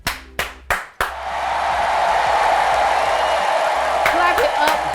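Three sharp, loud claps ring out, then a dense wash of crowd applause swells and holds steady, close and continuous.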